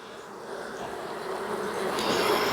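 Many honey bees buzz at a hive entrance on a hot late-summer day, a dense steady drone that grows slightly louder, close and with no talking.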